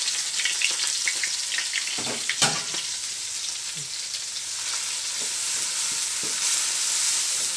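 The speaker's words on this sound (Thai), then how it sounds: "อันนี้ตำพริกนะคะคั่วให้หอมก่อน" Pounded chili paste is stir-fried in a pan for a Thai chicken curry with glass noodles, a steady hiss and sizzle with scraping stirs and a few sharper spatters, close up and without speech.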